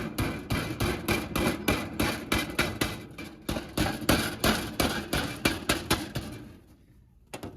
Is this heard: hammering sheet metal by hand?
yes